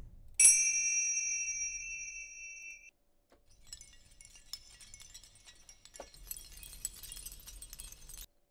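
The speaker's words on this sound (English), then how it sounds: "Some chimes." Chimes from the Epic Bundle sample library by Eduardo Tarilonte: one bright bell-like strike ringing out with a long sustain, then sparse, quieter metallic tinkles and shimmering clinks.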